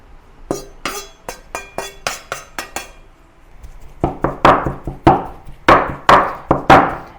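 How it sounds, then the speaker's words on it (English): Ground pork is minced with a cleaver on a chopping board, sharp repeated chops in uneven bursts, close and loud, growing heavier and more resonant in the second half. "I'm going to put this ground meat on the chopping board and mince it briefly."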